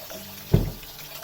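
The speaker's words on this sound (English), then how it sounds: "At this point in time, we have to add water." Rice-soaking water tipped into a pot of chicken biryani, heard as a single brief splash midway through an otherwise quiet moment.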